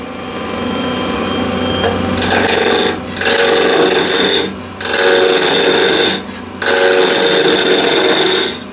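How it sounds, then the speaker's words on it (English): A 30 mm Continental spindle gouge roughing down a cherry block on a lathe gives a steady whir, then loud, rough tearing cuts in four bursts separated by short pauses as the tool lifts away. "So I'll start with this block of cherry and this Continental spindle gouge."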